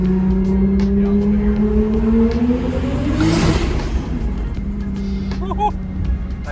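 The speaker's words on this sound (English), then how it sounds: "I hear the blow-off valve." A 1994 Toyota Supra engine revving and rising in pitch, then a sharp hissing whoosh of released air from an aftermarket turbo blow-off valve, with the engine droning on afterward.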